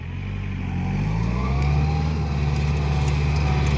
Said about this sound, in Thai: ขับรถไถเลยนะครับเพื่อนนี่